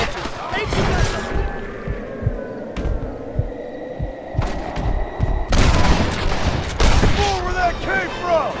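Gunfire in a Red Dead Redemption shootout, with sharp shots and bursts going off repeatedly amid game sound effects and occasional shouted voices, louder volleys clustering toward the end.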